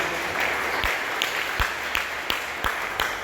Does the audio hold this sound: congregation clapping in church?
yes